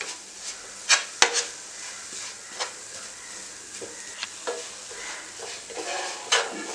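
Marzipan mixture with powdered sugar being stirred in a bowl, giving soft irregular scraping strokes with a few sharper knocks, close and fairly quiet with no talking.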